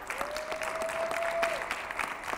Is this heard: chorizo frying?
no